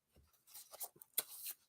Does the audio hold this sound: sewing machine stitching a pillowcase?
no